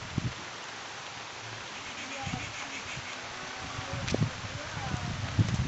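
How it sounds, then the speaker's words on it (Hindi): Rain falls steadily during an outdoor Hindu worship ceremony, a constant soft hiss across the whole stretch, with faint murmuring voices and a few dull knocks beneath it. "आज ये वर्षा है मत वीडियो करने को भी असुविधा है।"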